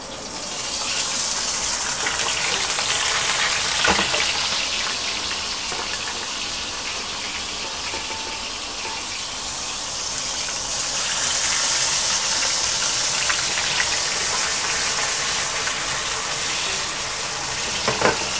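Fish pan-fries over lowered heat in a non-stick wok in a home kitchen, a continuous loud crackling sizzle that holds steady and close for the whole stretch.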